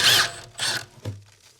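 A car's suspension knuckle pinch bolt, 18 mm bolt with a 16 mm nut, being undone with a hand tool: two short bursts of ratcheting or rasping, then a low metallic clunk, close and clear.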